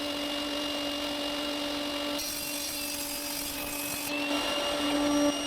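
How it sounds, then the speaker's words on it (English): Power tool cutting purple heart wood to a 12 mm thick piece, a steady machine whine with constant hum that brightens and intensifies partway through as the blade bites into the hardwood, continuous and close. "I start by cutting a piece of purple heart so that it is 12 millimeters thick"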